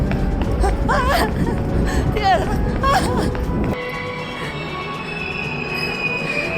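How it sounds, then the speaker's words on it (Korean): Subway train wheels squeal loudly in high, wavering screeches over a heavy rumble inside the moving car, then fade into a steadier roar, with voices murmuring underneath. "저는 투박이기 때문에 지하철을 타고 다닙니다"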